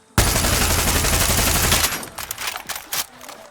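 A loud, fast burst of automatic rifle fire in Far Cry 6, lasting under two seconds, followed by quieter mechanical clicks and handling sounds as it stops.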